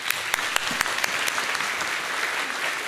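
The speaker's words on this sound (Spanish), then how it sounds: "Y un aplauso para Cristina Lescano, por favor." An audience applauds at a talk on soil ecology and regenerative agriculture, dense continuous clapping with a few louder individual claps near the front, no speech over it.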